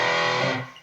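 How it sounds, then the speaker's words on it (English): A single distorted electric guitar chord from a Stratocaster through a British-voiced distortion model styled after a Marshall JCM 800 rings out briefly, thick and saturated, then decays within a second, with no voices. "The mainly the only usable distortion that I use is the one that I'm"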